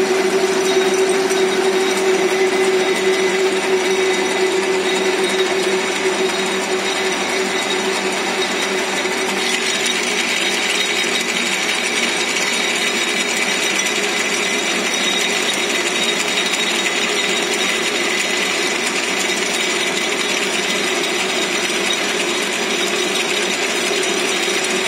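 A lathe presses a knurling tool into a slowly turning workpiece to emboss a diamond pattern, giving a loud, steady mechanical whir and grinding hum that runs unbroken throughout.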